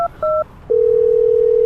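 Telephone keypad dialing: two short dual-tone DTMF beeps followed by a steady, loud continuous tone, heard clearly with no voices.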